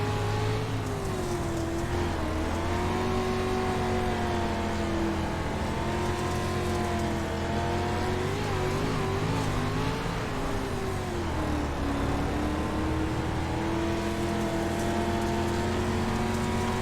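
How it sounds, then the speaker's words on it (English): A street stock race car on a dirt track in the Southern Dirt Racing Series, engine roaring loud and close as the driver works the throttle down the back straightaway, with rising and falling pitch and a steady heavy drone throughout. "Let's listen to him go to work with the throttle here down the back straightaway."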